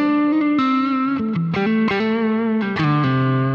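Distorted electric guitar run through a Boss GT-1000 with two stacked amp models in dual mode, playing sustained chords and single notes with a thick, driven breakup tone, alone and steady without talk.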